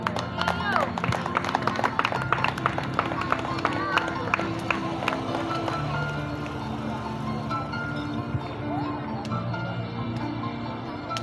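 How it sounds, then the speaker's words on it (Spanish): A church congregation clapping during a sermon, a rhythmic patter of hands over a murmur of voices and background sound, moderately loud, fading into a looser texture in the latter half. "Atribúyete un fuerte aplauso al Señor."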